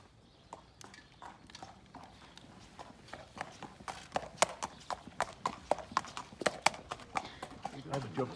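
A racehorse walks with clear, irregular clip-clopping hooves on a hard surface, the steps growing louder and closer, while people talk in the background.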